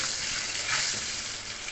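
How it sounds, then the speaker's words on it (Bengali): Potatoes fry in oil seasoned with salt and turmeric, giving a soft, even hiss of sizzling that stays faint and steady over a short stretch. "আলু ভাজার মধ্যে দিয়েছি নুন আর হলুদ"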